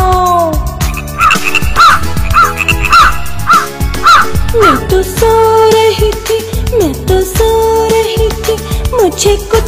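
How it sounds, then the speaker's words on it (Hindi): A crow cawing in a Hindi children's rhyme, with a quick series of harsh repeated caws set against loud, bouncy backing music. "मैं तो सो रही थी मुझे कौए ने जगाया, बोला काओ काओ काओ"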